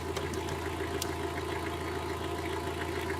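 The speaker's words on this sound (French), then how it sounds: "Le bruit d'un moteur diesel, coupé à 6h57" Diesel engine idling with a steady, low, even rumble and faint knocking clatter, heard alone and fairly quiet for the whole stretch; no shutdown is audible.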